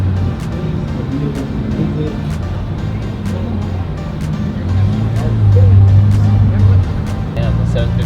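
At a car show, a McLaren 750S drives past, its engine hum swelling to a deeper, louder drone for a few seconds and then easing off, while people nearby chatter over it.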